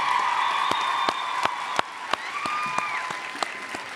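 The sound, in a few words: applause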